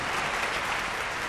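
A brief burst of applause-like clapping plays as a sound effect on a hip hop radio show, a dense and even wash of claps with no talk over it.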